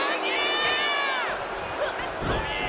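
An arena crowd at a WWE Saturday Night Main Event wrestling show cheers and roars for Asuka, a dense sustained wall of voices with rising shouts running through the whole stretch.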